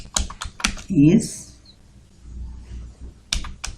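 Keys on a computer keyboard tapped while C code is entered, a few quick close clicks in short bursts at the start and end with someone speaking in between.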